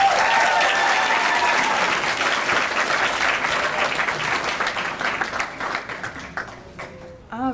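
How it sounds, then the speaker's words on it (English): An audience applauds at a family medicine and podiatry residency graduation ceremony, dense sustained clapping that gradually thins into scattered claps near the end. "So there's a round of applause for Dr."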